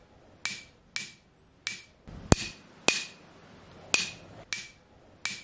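Tonewood xylophone bar with material removed, struck repeatedly: about nine sharp, bright wooden knocks at uneven intervals, each with a short ringing decay, close and alone.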